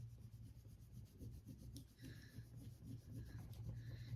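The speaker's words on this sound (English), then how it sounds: "just burnish it down like at a 45-degree angle with your popsicle stick" A popsicle stick burnishing down a color transfer at an angle, a soft continuous scratchy rubbing close by, steady back-and-forth strokes throughout.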